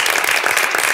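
A small studio audience of about fifteen people applauds at a television talk show, a dense, steady burst of close clapping.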